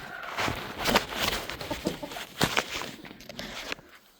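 Hens cluck softly in a homestead coop, a scatter of short, close, uneven calls alongside faint shuffling steps and rustling, with no voices.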